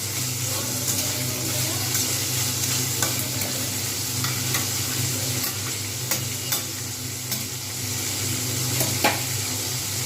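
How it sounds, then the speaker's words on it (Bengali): Ingredients for a ridge gourd, potato and poppy seed dish fry in a pan under a steady sizzle, while a spatula scrapes and taps the pan in irregular close clicks throughout. "ভালোভাবে ভেজে নিলাম সুন্দরভাবে নেড়ে নিতে হবে"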